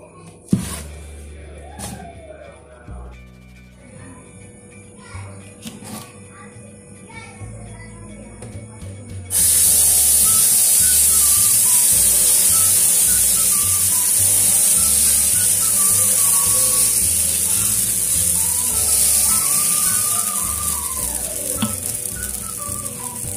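Dosa batter in the Jaffna, Sri Lankan style hits a hot pan partway through and sets off a loud, steady, close sizzling hiss that lasts to the end, after quieter clattering at the start.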